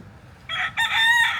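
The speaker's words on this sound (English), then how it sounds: "See the rooster right there?" A rooster crows nearby, loud and clear, one strong crow in two bursts with no talking around it, near a beach on St Thomas.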